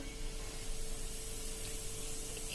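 Mustard seeds and asafoetida sizzle steadily in hot oil in a home kitchen pan, a continuous soft hiss at close range with no talking.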